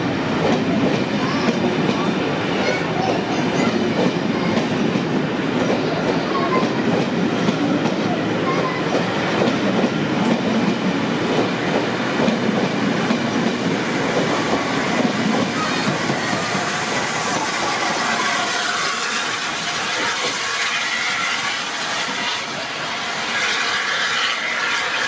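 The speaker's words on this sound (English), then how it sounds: "How nice to see Mark I coaches, genuine steam-age stock, running behind a steam locomotive." A steam locomotive hauling Mark I coaches rolls past with loud rhythmic clickety-clack and hissing steam. The noise stays heavy for most of the stretch, then thins slightly toward the end as the train draws away.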